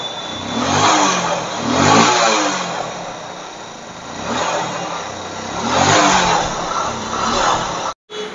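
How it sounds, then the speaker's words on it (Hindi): A Hero Splendor motorcycle with an intermittent electrical starting fault revs repeatedly during a pickup test, its engine rising and falling in about four loud, close surges with a brief cut near the end. "चलो एक बार कैप लगा देता हूँ और बाइक का पिकअप देख लेता हूँ"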